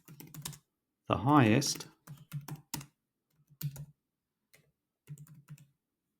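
Typing on a computer keyboard, a short run of key clicks broken up by a speaking voice, close and fairly quiet.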